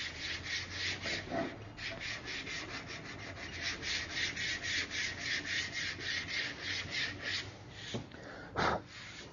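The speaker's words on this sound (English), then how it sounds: "Now that we've got the Bondo sanded with the 80 grit" Rhythmic, scratchy sanding strokes as body filler is block sanded with 80-grit paper, rasping back and forth steadily, close up, with a couple of heavier scrapes near the end.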